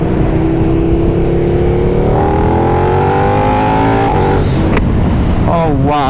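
KTM 1290 Super Duke R motorcycle engine accelerating hard, a loud, close, continuous growl whose pitch climbs steadily through the revs before easing and rising again.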